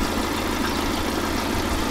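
A VAZ 2110 car engine idling, a steady low rumble with an even pulse and nothing else over it.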